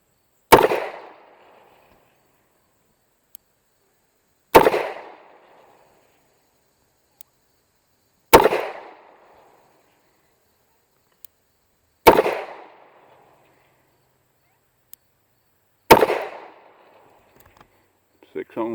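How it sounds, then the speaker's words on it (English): Five sharp, loud reports from a Smith & Wesson Model 12 Airweight .38 revolver fired double action outdoors, evenly spaced about four seconds apart, each with a short decaying echo. "We're going to find out at 30 feet what kind of practical accuracy this gun has"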